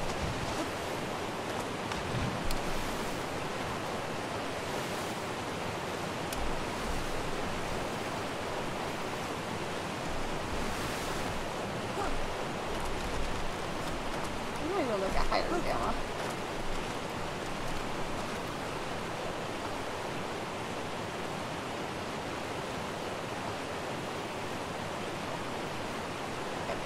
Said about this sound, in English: I'm trying to cross the waterfall.